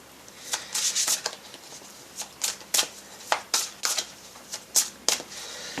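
Tarot cards handled and drawn by hand: repeated crisp flicks, slides and snaps of cardstock in an irregular rhythm, close and clear, with no talking.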